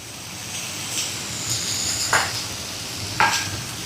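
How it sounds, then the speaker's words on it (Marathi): Hand-torn green chillies roast in a pan with just a little oil, giving a soft, steady sizzle broken by a few sharper scraping stirs. "2 हिरव्या मिरच्या अशा हाताने चिरून घेतलेलं टाकून घेऊयात आणि अगदी थोडंसं तेल टाकायचं."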